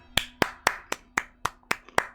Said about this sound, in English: Zen, I have to fucking applaud you.